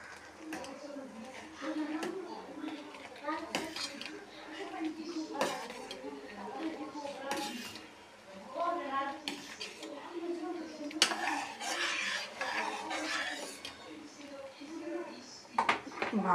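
Boiling ghee stirred with a metal spoon in a pot, giving repeated clinks and scrapes against the vessel over a bubbling background, with a voice talking throughout.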